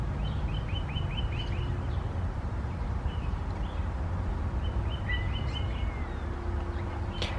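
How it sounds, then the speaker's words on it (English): Several birds chirp and tweet in short repeated bursts at a moderate distance outdoors, over a steady low background hum, with no talking. "You see some birds flying around."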